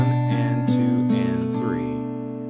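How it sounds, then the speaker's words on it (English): Fingerstyle acoustic guitar picking a Skye Boat Song passage, with open strings ringing on as drone notes once the little finger lifts; clean, close and sustained, with no talking. "That's a nice sound when you lift that little finger up and get those open drone sounding notes."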